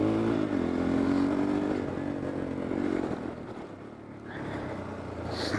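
A motorcycle being ridden and leaned through turns gives a steady engine drone mixed with wind rush, which dips briefly before rising again.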